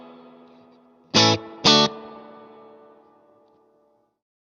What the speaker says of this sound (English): It's got a lot of reverb for being such a small cabinet.